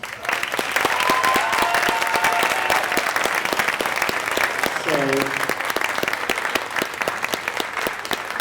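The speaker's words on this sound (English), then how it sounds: "Give them a round of applause" Audience applause for choir students at a high school choir dinner, dense steady clapping filling the room for the full stretch, with faint voices and a brief melodic vocal murmur mixed in.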